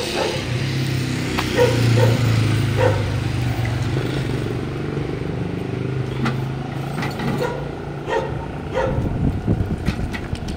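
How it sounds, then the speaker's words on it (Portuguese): Several dogs barking around a person on a roadside, with intermittent barks over a steady low engine rumble of passing traffic. "Já tem os cachorros te rodeando."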